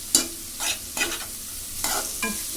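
Chili powder is stirred in a frying pan while cooking aanapakaaya, bottle gourd, giving about five crisp scraping strokes over a soft, continuous sizzle, close and with no voices.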